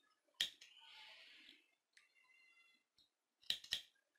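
Scissors cut crochet thread up close, giving sharp, crisp snips: one at the start and a quick double snip near the end, with faint rustling of thread in between in an otherwise quiet room.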